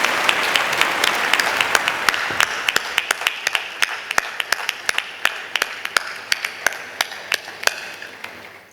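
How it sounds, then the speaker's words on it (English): An audience at a medical college graduation ceremony in Ernakulam bursts into loud applause for the graduating batch, a dense roar of clapping that thins into scattered, sharp individual claps with a steady rhythm. "give a loud applause for the convocating 14th batch"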